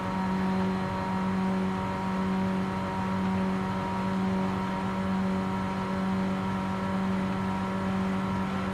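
A four-cylinder car in Forza Horizon 5 with a six-speed automatic pulls hard under acceleration, a steady loud droning engine note with a strong low hum that holds throughout without any voices.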